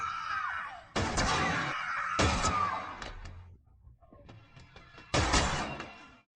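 Three sharp, loud gunshots fired from a balcony ring out several seconds apart, each with a ringing decay, amid screaming and tense background sound.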